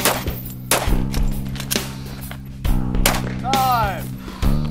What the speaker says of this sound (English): Five shots quick.